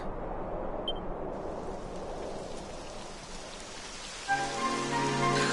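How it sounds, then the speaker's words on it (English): Rain in the video game Dragon Quest XI, a steady hiss of falling rain with a low rumble of thunder, joined near the end by a tonal musical layer. "It would have to go and start raining, wouldn't it?"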